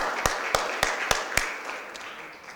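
Sparse clapping at a Board of Aldermen council meeting: five sharp, evenly spaced claps close by, then a couple of fainter ones trailing off into room quiet.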